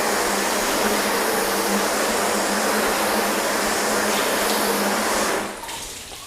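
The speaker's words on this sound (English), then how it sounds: "now we're going to give it a rinse" A steady, loud hiss of a water rinse sheeting across a car's ceramic-coated paint runs continuously at close range, then drops off abruptly near the end.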